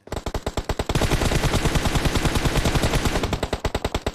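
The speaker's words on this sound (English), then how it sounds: "Trying to find who's doing the shooting here." Rapid bursts of video game gunfire crackle in a dense, fast rhythm, spaced shots at first and then sustained automatic fire, loud and close.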